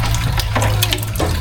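A steady stream of tap water rushes and splashes at a house where dishes are being washed, close and continuous, with a few clattering knocks through it and no talk.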